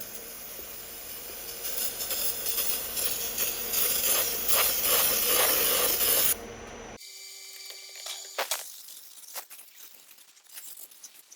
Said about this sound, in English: we're gonna brake clean around in here